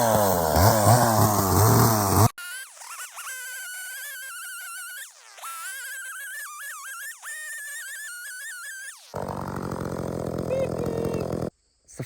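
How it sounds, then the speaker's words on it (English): A chainsaw whines at high pitch, its tone rising and dipping as it bites through a wood plank, with loud broadband noise before and after the cutting. "use the chainsaw as a guide"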